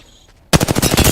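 Video game enemy gunfire, a sudden loud burst of rapid automatic shots after a brief quiet moment.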